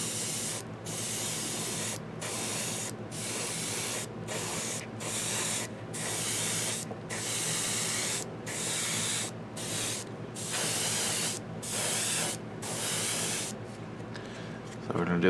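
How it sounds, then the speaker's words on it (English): An airbrush spraying paint onto a Reaper hill giant miniature, steady hissing bursts repeatedly cut by short pauses in an uneven rhythm, close and loud. "we're going to do the majority of the colors on this model with an airbrush"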